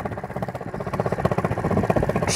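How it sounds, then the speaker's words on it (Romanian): A Kayo KXD 125cc motocross motorcycle idles close by with a quick, even putter of engine pulses that holds steady throughout. "îl lăsați puțin să toarcă câteva secunde ca să fie totul ok în parametri normal"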